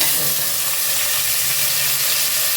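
Chopped tomato hits hot oil in a frying pan, already holding onions fried until golden, for a Kongu-style rice and lentil dish from Coimbatore. It gives a loud, steady, close sizzling hiss that holds evenly throughout, with no talking.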